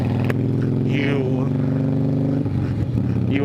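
A Harley-Davidson motorcycle engine idles and revs steadily nearby during an uphill takeoff, a continuous low hum that dips briefly, with a voice speaking over it.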